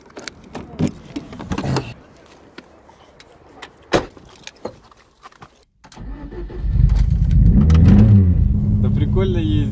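A VAZ 2111 car with a loud aftermarket exhaust: a few sharp knocks and clicks first, then the engine bursts into a deep, steady, loud roar that carries on to the end.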